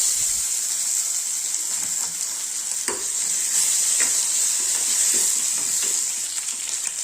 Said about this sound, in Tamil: கடுகு வந்து நல்லா வெடிக்க ஆரம்பிச்சிருச்சு